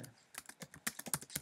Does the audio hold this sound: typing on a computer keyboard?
yes